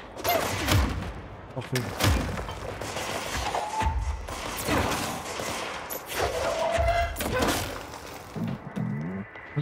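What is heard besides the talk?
gunfire from the gun in video game Control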